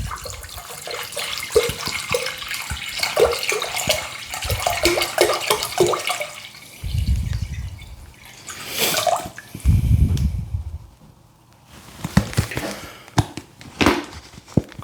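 Water is poured into a large container while making mead, a steady splashing gush with clinks and handling noises, coming in bursts and broken by short pauses, loud and close with no talking.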